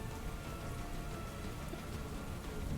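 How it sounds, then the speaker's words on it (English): Steady rain hisses evenly and fairly close, a continuous wash of drops with no pauses and no voices. "rain begins to fall in a steady stream."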